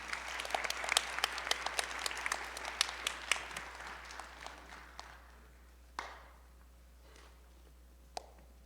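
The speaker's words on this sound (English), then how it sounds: "you could give a round of applause" An audience at a regional spelling bee applauds, a burst of many hands clapping that thins out and fades to a few scattered claps within several seconds, heard fairly faintly in a quiet hall.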